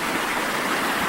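Water of Newsom Creek flowing steadily beside a campground near an old cabin and side tributaries, a continuous broadband rush and babble that stays constant and fairly loud throughout, with no voices.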